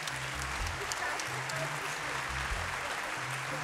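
An audience applauds at a regional culture awards ceremony in Lower Austria, a steady, fairly faint wash of clapping heard from a distance throughout the hall.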